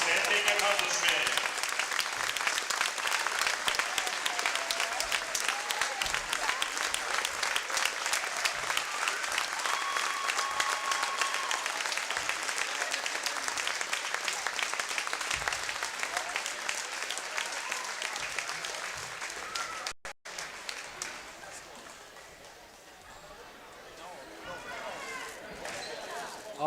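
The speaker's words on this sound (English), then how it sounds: "Let's give her a big round of applause" A crowd in a gym applauds steadily at a non-conference girls' high school basketball game. The loud, sustained clapping lasts about twenty seconds before thinning out, and an announcer's voice comes through beneath it.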